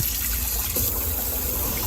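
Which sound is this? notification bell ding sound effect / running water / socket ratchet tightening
running water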